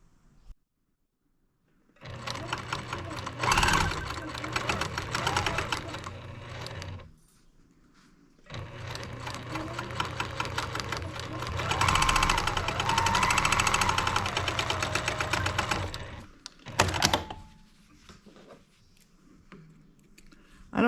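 A sewing machine stitches quilt block seams in two long runs and a short final burst, a close, steady whir with brief quiet pauses between.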